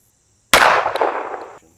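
A single sharp report from a PSA Admiral 1911 Tactical pistol, loud and close, bursting suddenly out of silence and ringing off for about a second.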